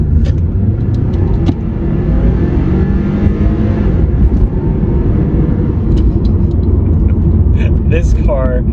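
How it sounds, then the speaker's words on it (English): A turbocharged wagon with a big hood scoop and roof rack, 227 brake horsepower, accelerating up to the speed limit. A loud, continuous engine and road roar comes from inside the cabin, with brief faint voices near the end. "This car flies. 227 brake horsepower."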